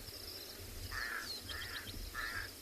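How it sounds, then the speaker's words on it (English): A pair of pied crows calling outdoors on a South African safari, giving three short hoarse caws spaced about a second apart at moderate distance over steady insect and ambient hum. "a couple of pied crows,"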